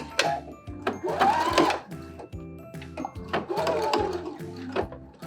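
A sewing machine whirs in quick rhythmic bursts of straight stitching along the edge of satin ribbon, close and loud, pausing briefly between runs.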